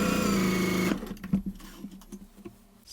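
Janome sewing machine running a test line of stitches, a loud, close, steady whir lasting just under a second before stopping, followed by faint handling clicks and rustles.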